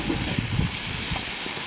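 Portobello mushrooms cooking on a grill, giving a steady broadband sizzle and hiss that runs the whole time at moderate loudness, with a few low knocks underneath.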